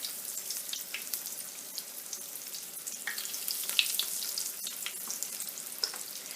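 Breaded mozzarella sticks fry a couple at a time in hot oil, a close, continuous crackling sizzle with scattered sharp pops and spits.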